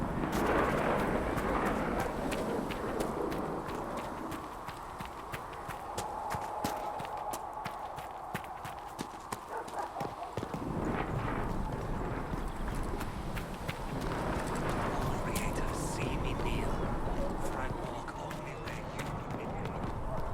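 Horse hooves clip-clop while riding mounts in Dragon Age: Inquisition, a steady trotting patter under a dense, rumbling game soundscape, with a voice talking over it.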